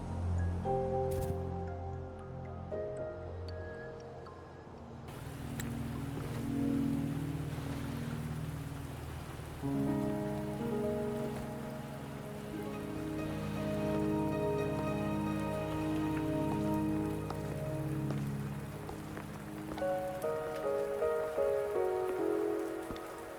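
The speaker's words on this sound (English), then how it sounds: "Are you trapped here by the rain?" Steady rain falls in the Wuthering Waves video game, a soft continuous patter on surfaces beneath a calm melodic music score with no talking.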